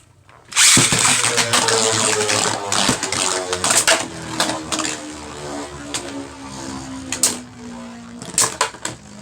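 Vise Leopard and Drain Fafnir Beyblades, hand spun, clash in a stadium with a loud whirring spin and rapid scraping and rattling contact, then several sharp knocks as the battle slows.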